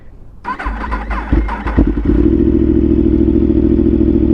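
An abused Yamaha R1 sport bike, a track bike being converted for street use, cranks with clattering starter noise, then catches and settles into a loud, steady idle close by.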